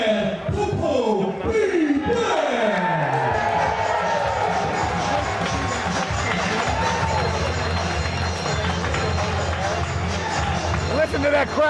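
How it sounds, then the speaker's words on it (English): Wrestling arena crowd roaring for the Birdman Koko B. Ware's entrance at a live event, a sustained loud wall of cheering and babble that fills the whole stretch. "Listen to that crowd, Dombrowski."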